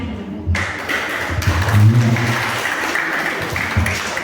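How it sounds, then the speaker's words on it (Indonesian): An audience applauds a contestant at a church Easter competition, a continuous crowd clapping of moderate loudness with some low thumps underneath, fairly close and sustained. "berikan tepuk tangan buat peserta dari Rayona."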